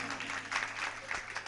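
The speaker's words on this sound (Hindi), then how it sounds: "एक बार तालियां बजाइए।" An audience at a Jain religious sermon claps together in a brief, dense burst of applause, moderately loud with a faint hum beneath.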